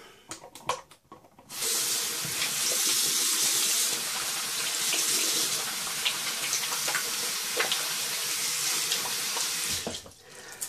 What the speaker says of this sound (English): So, wash my hands real quick.